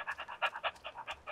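Dog in the video game ArmA 2 pants quickly and close by, a rapid, even run of about a dozen breathy huffs with no talking over it.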